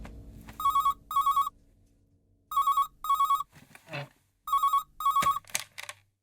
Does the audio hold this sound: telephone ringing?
yes